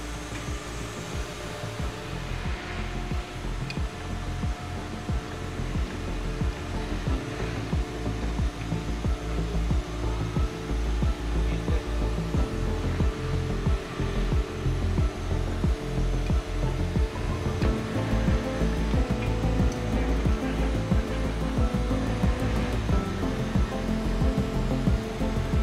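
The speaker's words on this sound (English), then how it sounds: "these are one of our wood CNC machines. As you can see, they're cutting out all the patterns to make the cabinets" A wood CNC machine cutting cabinet patterns in an RV factory, a loud continuous whining roar of spindle and router that holds steady throughout, with no speech.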